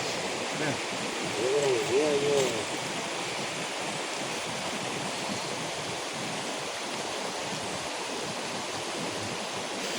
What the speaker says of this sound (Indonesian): jadi aliran sungai yang sebelah sini mau kita keringkan ya dengan cara dibendung